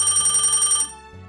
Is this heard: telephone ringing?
yes